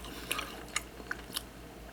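Someone eats grilled galbi dumplings from a 7-Eleven convenience store, giving a few soft, irregular chewing and biting clicks up close over faint background hiss.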